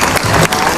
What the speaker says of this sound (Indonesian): Tepuk tangan untuk Puput dari Semarang